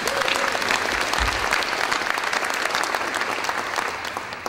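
Luncheon audience at a charity campaign kick-off breaks into loud, sustained clapping from a large room, many hands pattering densely and evenly before tapering slightly at the end.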